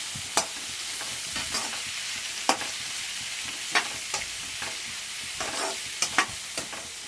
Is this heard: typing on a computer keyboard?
no